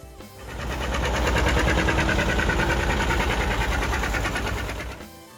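An old John Deere 720 tractor engine runs steadily and loudly, a rapid rhythmic popping chug that holds even for about five seconds before cutting off.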